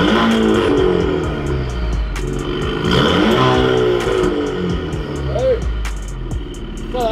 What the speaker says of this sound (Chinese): 那我们可以听一下这个排气管吗？